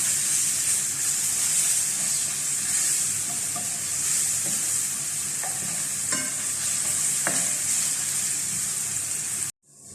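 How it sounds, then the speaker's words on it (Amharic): Garlic frying in Arab butter sizzles steadily and loudly in the pan, with a few light stirring clicks and taps over the constant hiss, no voices, ending abruptly. "ነጭ ሽንኩርት ጠብሳለሁ ከቂቤ ጋር"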